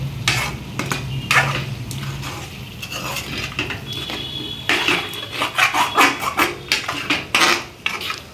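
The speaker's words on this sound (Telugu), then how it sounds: "ఇలా చికెన్ అనేది బాగా వాటర్ పోయి ఫ్రై అయ్యేలా ఉడికించుకోవాలి" Chicken pieces for a Telugu-style chicken curry frying in a pan with a little water, with steady sizzling and repeated scraping and clinking of a spoon against the metal pan, close and fairly loud, no talking.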